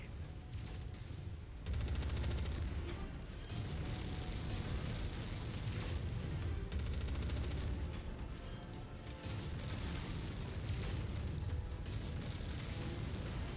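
Dense, continuous explosions and rapid gunfire roar from a mech combat video game, loud and sustained with a few heavier booming surges.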